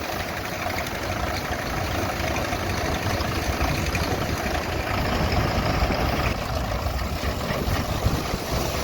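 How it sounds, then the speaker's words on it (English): A small vintage T35 tractor engine idles at a harvest, a loud, steady low rumble with a continuous chugging throb that holds for the whole stretch. "we got the little T35 fired up there"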